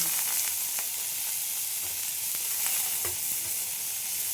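A large chopped onion and black cumin (kalonji) frying in a pan, a steady, close hiss of sizzling oil with faint occasional crackles and light stirring taps, no voices.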